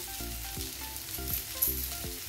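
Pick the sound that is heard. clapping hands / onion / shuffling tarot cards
onion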